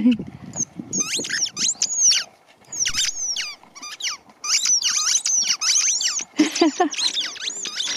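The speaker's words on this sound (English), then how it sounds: "well, they do squeak nicely and loudly" Repeated high-pitched rubbery squeaks of dog toy balls in quick bursts, loud and close, in a foggy field, with a few pauses between runs and faint low voices in the background.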